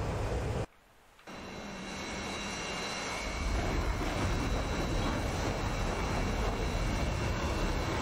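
Steady droning roar of a small aircraft engine in flight over the Kola Peninsula, briefly dropping out then building back to a constant, loud cabin hum with no talking.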